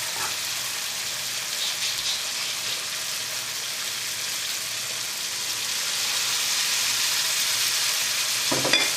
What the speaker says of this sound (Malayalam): ഇതിലേക്ക് നമുക്ക് നമ്മൾ അരച്ച് വെച്ചേക്കണം അരപ്പ് ചേർക്കാം.